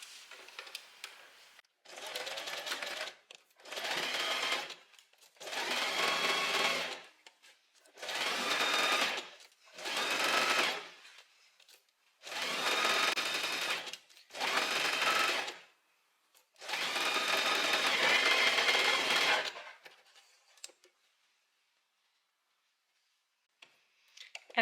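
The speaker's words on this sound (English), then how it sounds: "now we're going to sew with a 1 centimeter seam allowance" A sewing machine stitches a 1 cm seam on a thin-strapped black dress in bursts, eight runs of rapid mechanical whirring separated by short pauses, the last run the longest, then silence.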